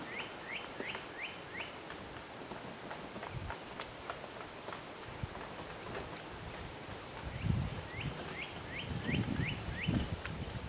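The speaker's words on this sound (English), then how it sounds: "So as you could hear the birds singing and" Faint birds call in short, quick repeated trills at the start and end, heard at a distance over rustling and scattered footsteps.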